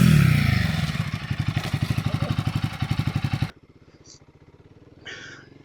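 A Royal Enfield Guerrilla 450 motorcycle engine thrums with a rapid pulsing beat and road noise, loud and close, then drops abruptly to a quieter idle-like throb as the bike stops, with brief faint scraping.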